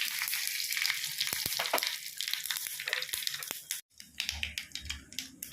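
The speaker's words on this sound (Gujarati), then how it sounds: "ઓઇલ ગરમ થઈ જાય ત્યાર પછી આપણે તેમાં થોડી રાઈ એડ કરીશું." Mustard seeds, sesame seeds and curry leaves sizzle and spit in hot oil for a khandvi tempering, with loud crackling pops. A brief hush near the end is followed by renewed, sharper crackles.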